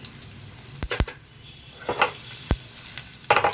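Dried red chillies, four or five of them, crackle and sizzle in hot oil while tempering for South Indian sambar, with sharp spitting pops and bursts of frying over a steady low hiss, close and moderately loud.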